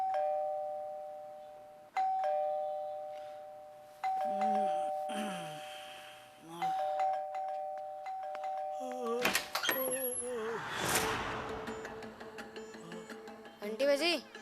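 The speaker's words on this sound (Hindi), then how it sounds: "घंटी बजी" Electronic doorbell chiming repeatedly, each steady tone ringing out and decaying roughly every two seconds, with voices talking over the later chimes and a busier burst of sound in the middle.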